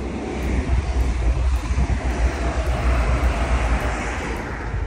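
Constant road traffic roars nearby on a Sunday morning walk along the River Lea between Luton and Harpenden, a broad rushing rumble that never lets up, with no voices.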